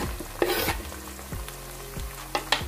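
Onion frying in a pan for an aloo baingan dish, a steady close sizzle with stirring clatters and a few scraping knocks of the spoon against the pan.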